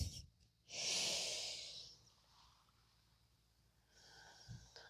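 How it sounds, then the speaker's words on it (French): Slow controlled breathing during a gentle yoga back-stretch flow, with a strong, airy exhale lasting about a second near the start, then softer, quieter breaths close to the microphone with no talking. "Prends le contrôle de ta respiration."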